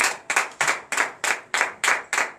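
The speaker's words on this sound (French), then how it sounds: "donnez de vives acclamations à l'Éternel Dieu ce matin" A church congregation claps in praise during a morning prayer service, a loud, steady rhythm of about eight sharp unison claps in just over two seconds, with no voices over it.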